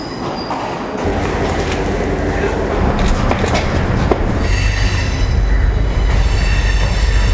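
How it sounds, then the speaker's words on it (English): A passenger train from Homagama pulls into Colombo Fort railway station with a loud, continuous rumble of wheels on the rails, rising slightly with clacking and some wheel squeal near the end. "The first train to arrive at the Colombo Fort railway station was one carrying passengers from Homagama"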